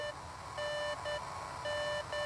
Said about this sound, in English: Walkie-talkie's beeping Luca's again.